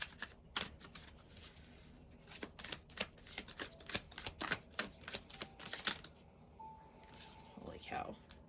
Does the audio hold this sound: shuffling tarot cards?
yes